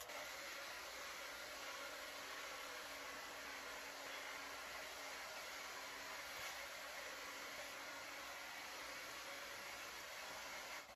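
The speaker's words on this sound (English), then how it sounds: "All right, I'm gonna use the hairdryer." A hair dryer blows steadily and loudly for the whole stretch, used to push paint across a large 3 by 4 foot acrylic pour painting, a constant broadband whoosh with no talking.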